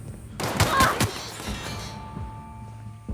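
A short burst of gunfire crackles in The Outer Worlds video game. Several sharp cracks land close together within about a second, then a fading tail gives way to a quiet background.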